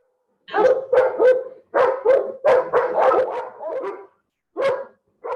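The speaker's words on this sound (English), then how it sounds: "If someone mute the dog's barking" A dog barks repeatedly at close range, loud bursts in irregular clusters with brief pauses, heard alone without talk.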